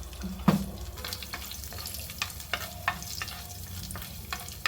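Faint sizzling of chana dal, cumin, mustard seeds and dried red chillies frying in hot oil, with scattered pops and a few stirring clatters, steady and low without any talk.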